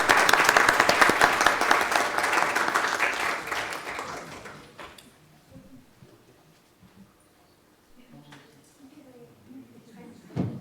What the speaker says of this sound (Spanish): démosles un fuerte aplauso de bienvenida